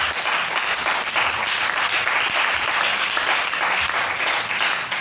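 A church congregation claps and cheers in praise, sustained loud applause filling the room without pause.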